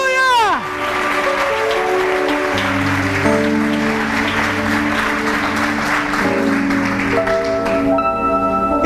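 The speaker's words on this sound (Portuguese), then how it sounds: "Você pode aplaudir o Senhor?" A church congregation applauds steadily for several seconds under sustained music and voices, a loud, dense wash of clapping filling the hall.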